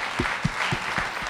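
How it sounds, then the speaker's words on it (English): An audience at a pitch-night event at Lincoln Center applauds a volunteer, a steady wash of clapping over low voice-like murmurs. "a round of applause for Jim, too"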